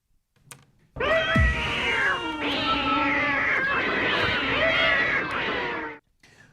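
A cat fight sound effect: two cats yowl and caterwaul in long, wavering, overlapping cries for about five seconds, loud and close, with no talk over them.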